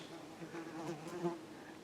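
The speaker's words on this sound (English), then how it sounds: "Got a fly buzzing around." A housefly buzzes continuously nearby in a quiet room, a soft droning hum rising and falling slightly as it circles, steady throughout with no talk.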